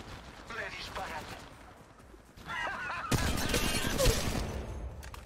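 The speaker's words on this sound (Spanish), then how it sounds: "Me disparan." Gunfire in Apex Legends Mobile: bursts of shots, some sharp reports and rattling volleys, growing louder toward the end, with game voice lines and chatter mixed in.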